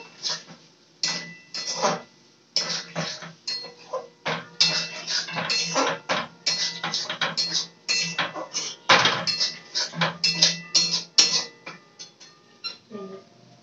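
Metal spatula scraping and clanking against a kadai while stirring chowmein with masala, a busy run of repeated close, sharp metallic hits and scrapes with brief pauses.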